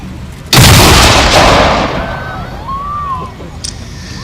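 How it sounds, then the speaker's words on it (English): An artillery gun fires one round at an outdoor military show, a single loud, close boom that rolls into a long rumbling echo, with a faint whistle-like tone afterward. "Now, I think we want to fire 1 round please now, so you'll hear the gun fire."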